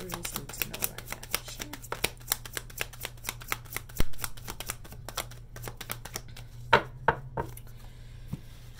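Tarot cards being shuffled by hand, a rapid run of crisp riffling flicks and soft slaps close by, ending in a few louder card taps, with no talking.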